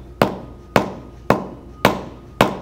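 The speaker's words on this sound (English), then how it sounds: "I'm going to replicate this by testing this cable with a hammer." A hammer strikes a TPC wire and cable five times at a steady, roughly half-second rhythm, each blow a sharp, loud thwack that decays quickly, close up and with no talking.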